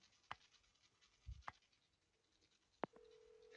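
Telephone keypad dialing in the survival horror game Silent Hill 4: The Room, with a few sparse, faint button tones spaced apart and a short steady tone near the end, over a quiet background.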